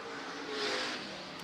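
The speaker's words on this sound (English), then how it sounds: "Flyby of the cars as they go into 1 and 2." KDRA Street Stock race cars roar past on the Richmond Raceway track, a steady engine drone that swells briefly as the pack goes by into the first turns, fairly distant and alone.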